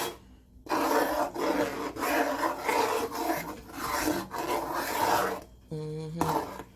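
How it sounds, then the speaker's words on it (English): A spoon scrapes and stirs thick peanut and oat porridge in a pot, Jamaican style, in a steady run of rasping strokes with short pauses between, close and fairly loud; a voice cuts in briefly near the end. "And we just keep stirring in there."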